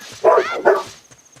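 Two loud, close dog barks hit the microphone back to back indoors, then fade into near silence with a few soft clicks.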